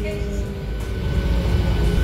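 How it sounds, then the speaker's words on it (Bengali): A local passenger train on a Bengal line toward Howrah runs steadily, its low carriage rumble and rattling wheels continuous and close throughout, with a faint murmur of voices inside the mostly empty coach. "হ্যাঁ, লোকাল ট্রেনের জার্নিটাও কিন্তু একটা আলাদা অ্যাডভেঞ্চার"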